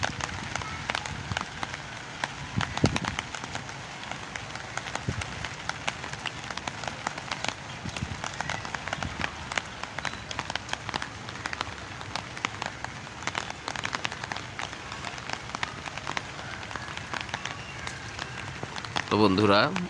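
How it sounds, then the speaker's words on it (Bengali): Steady rain falls on a rooftop, a dense, even patter that lasts throughout, moderately loud and close. "বৃষ্টিটা প্রায় কমে এসেছে।"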